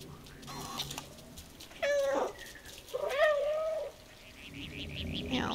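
A cat meowing in the video game Stray, two clear drawn-out meows close up, with soft ambient game sound between and a faint trilling cat call near the end.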